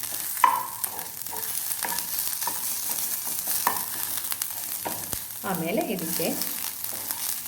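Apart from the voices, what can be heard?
frying and stirring in a pan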